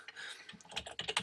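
Rapid, uneven typing on a computer keyboard while entering words into a table in Microsoft Word, with close, crisp key clicks in a quick burst and no talking.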